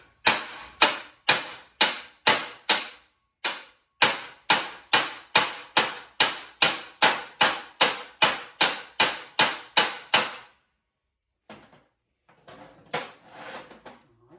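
Repeated hammer strikes seat a new U-joint bearing cap on a Jeep XJ Cherokee: about twenty sharp, evenly spaced metallic blows, close and loud, followed by a pause and some quieter shuffling and handling noise.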